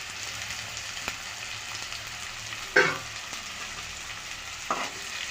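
Chopped capsicum sizzles softly in hot oil, with a couple of sharp clinks of a utensil against the pan.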